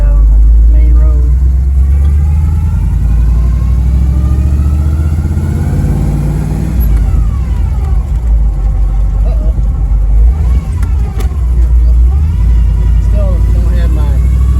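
A 1968 Firebird's engine pulls away and drives off, its loud, deep rumble rising and falling through gear changes as it accelerates onto a road, with a voice talking over it.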